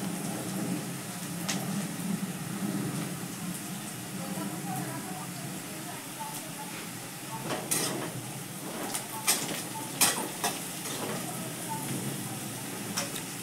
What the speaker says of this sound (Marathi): आता आपला हा कांदा भाजत आलेला आहे, त्यामध्ये आपण घालूया थोडीशी हळद,